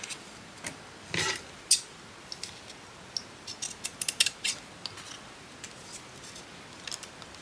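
Scissors snip through lace in a craft session making small embellishments, a few sharp close cuts followed by a scattered run of quicker snips and clicks.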